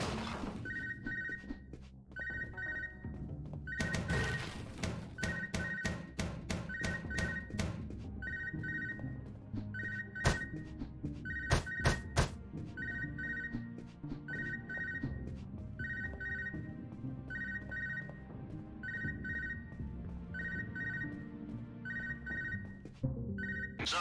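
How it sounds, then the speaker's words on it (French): An electronic telephone rings in the video game UnMetal, repeating short trilling bursts in a steady pattern over game music, thuds and effects. "Le téléphone, c'est lequel téléphone?"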